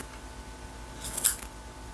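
Small scissors give a single quick snip while trimming the fuzzy fur of a pipe-cleaner dog doll, a crisp close cut against a quiet room.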